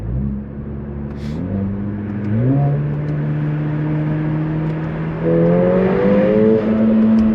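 A modified Mercedes A45 AMG with KW Clubsport suspension drives on a public road, its engine droning steadily and rising in pitch through the gears with clear shift steps, loud and close from inside the car.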